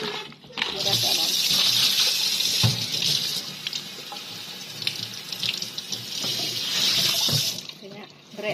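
Water pours steadily into a pot while pansuh keli, a catfish dish, is being cooked. The rushing, splashing flow runs close and loud for most of the clip, with faint voices in the background.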